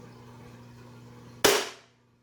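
One sharp, loud crack of a Glock 18C gas blowback airsoft pistol firing a single shot, heard alone after a low steady hum and fading quickly.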